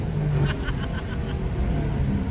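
A boosted 850hp procharged Ford Mustang 5.0 with long tube headers and straight pipes pulls hard, its loud low rumble holding steady throughout, with a faint rising whine above.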